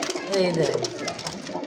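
Pigeons in a Bangladeshi breeding loft, racer and fancy breeds, give low cooing calls through a busy background while someone talks over them the whole time.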